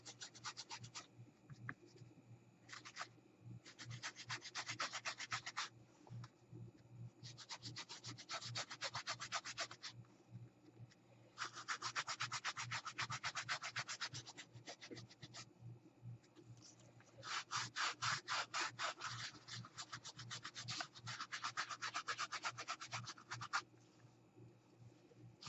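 Shoe polish rubbed onto paper by hand: close, steady scrubbing strokes in several bursts of a few seconds each, separated by short pauses, soft and dry with no talk.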